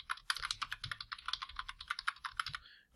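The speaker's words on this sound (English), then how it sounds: "We would want to type something along the lines of" Fast typing on a computer keyboard while entering an EMT patient care report: a close, steady run of crisp key clicks that pauses briefly at the end.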